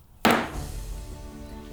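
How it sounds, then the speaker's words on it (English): Wooden gavel struck once on a desk, a sharp close knock with a short ringing decay. "She knocks it on her desk when she wants to say something."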